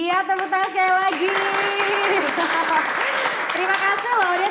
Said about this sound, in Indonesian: Iya, tepuk tangan sekali lagi.